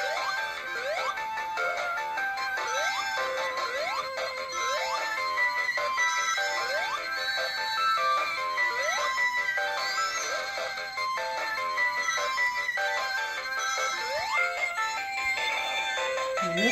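A Hallmark video game Christmas ornament plays its electronic sound, a bright beeping chiptune of quick repeating tones and rising blips that runs steadily for the full length, with no talking.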